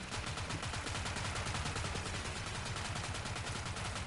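Rapid automatic gunfire from the video game Borderlands 3 rattles in a fast, steady stream of shots, dense and continuous throughout, with no talk.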